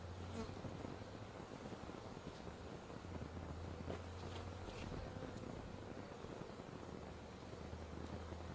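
Honey bees swarm and buzz around an opened, honey-heavy beehive, a dense continuous drone filling the whole stretch, with a steady low hum and faint wind underneath.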